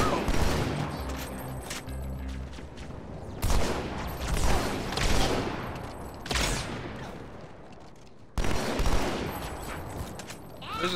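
Rapid bursts of gunfire from the Halo 2 video game fire repeatedly, with loud sustained automatic volleys and sharp separate shots.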